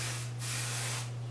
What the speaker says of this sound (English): sometimes I will spray each individual piece after I curl it